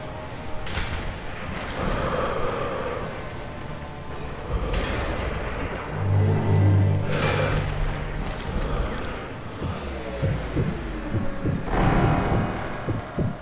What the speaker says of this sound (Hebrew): דופק ריצה